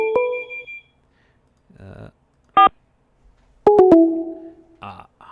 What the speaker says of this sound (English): The prison phone is ringing.